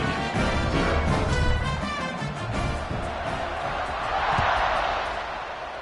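A home crowd at a college football game involving Virginia roars and cheers in a broad, distant wash that swells and fades, with a broadcast commentator's voice mixed in.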